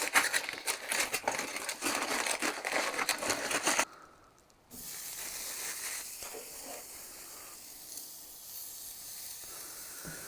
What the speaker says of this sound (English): put it in foil with some olive oil